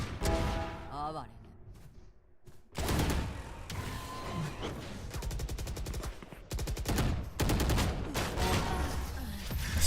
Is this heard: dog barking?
no